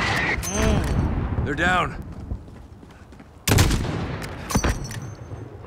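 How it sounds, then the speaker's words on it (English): Gunfire in Call of Duty Modern Warfare during a firefight against mortar teams, with sharp single shots and short bursts, one loud blast midway, and someone speaking briefly among the shots. "Look for the muzzle flash when they fire!"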